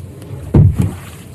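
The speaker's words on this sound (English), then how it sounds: "Rowing boat." A rowing boat on water: a couple of soft, low oar splashes and strokes close by, the first one stronger, over a quiet watery background.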